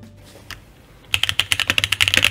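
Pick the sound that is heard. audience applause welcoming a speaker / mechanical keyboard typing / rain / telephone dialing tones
mechanical keyboard typing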